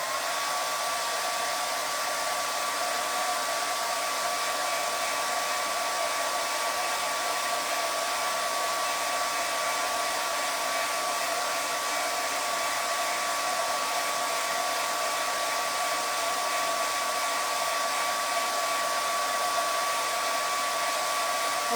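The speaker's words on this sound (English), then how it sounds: "Let me grab my dryer. Let's dry this chip really quick so that we can chalk on it again." Hair dryer blowing steadily on a chalk-painted chip, a constant close whooshing roar with a faint high whine, unbroken for the whole stretch with no talking.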